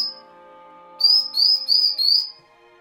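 Lamy birdsong whistle imitating a bay-breasted warbler: one short high note, then four thin, pure, high-pitched whistled notes in quick succession, close and clear over quiet background hum.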